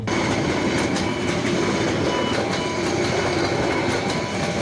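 Train running along a busy railway line at Kaptai Rastar Matha, a loud, close, continuous rumble with rapid clickety-clack of wheels over rail joints and a faint metallic squeal, no voices.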